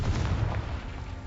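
Explosive Confringo or Bombarda spell in a Hogwarts game: a single deep, rumbling blast that booms up front and decays over about a second, loud and close.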